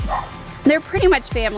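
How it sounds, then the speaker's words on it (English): Dogs barking and yipping at a campsite in Ridgway State Park, a few short barks mixed in among nearby voices talking. "You guys can hear the dogs barking in the background."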